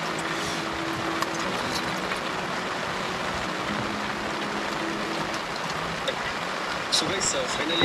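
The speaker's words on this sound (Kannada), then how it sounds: "ಮಳೆ ಜೋರಾಗಿ ಸ್ಟಾರ್ಟ್ ಆಗೋಯ್ತು" Heavy rain pours steadily on a forest camping spot, a dense, constant wash of drops that stays close and unbroken from start to finish.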